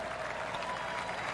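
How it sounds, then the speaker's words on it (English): Golf spectators give a brief, polite golf clap, a soft, steady patter of scattered clapping from a small crowd with no voices over it. "Golf clap."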